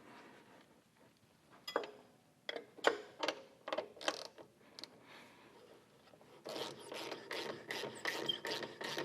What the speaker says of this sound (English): I'm gonna unbolt the bottom on the other side.